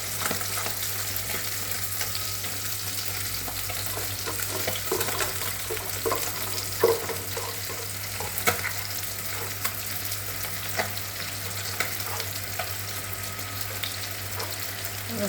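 Small fish sizzling in hot oil in a pan, cooking for a Bengali curry with turmeric, a steady crackling fry that runs continuously with occasional stirring and faint water sounds.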